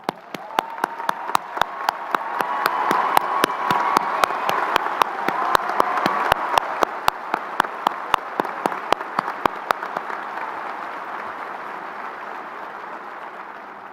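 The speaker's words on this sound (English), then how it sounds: "Those veterans, please rise to receive a well-deserved round of applause." An audience at a high school graduation ceremony applauds veterans rising to be honored, a steady, loud wash of many hands clapping with a few sharp nearby claps standing out, lasting throughout with no talk.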